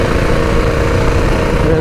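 Predator 212 engine on a homemade mini bike held at quarter to half throttle, a close, steady mid-pitched running drone with no break through the short stretch.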